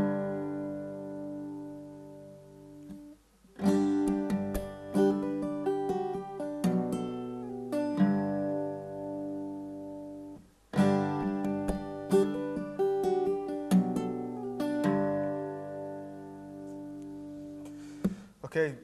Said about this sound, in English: What you're going to do is you're going to pull off with your right hand first,